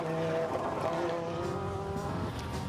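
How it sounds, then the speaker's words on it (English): Audi five-cylinder rally car launching off the start line on a rally stage at the 2024 Goodwood Festival of Speed, a steady loud engine roar with a rising pitch that holds throughout, heard alone. "another one of the 5-cylinder beauties off the start line."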